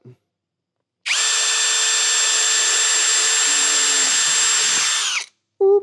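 A power drill drilling metal on a Toyota Prado 250 bonnet mount whines loudly at a steady pitch for about four seconds, then spins down and stops.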